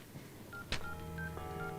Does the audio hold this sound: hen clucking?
no